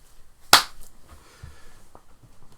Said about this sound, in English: Shall I do a clap again?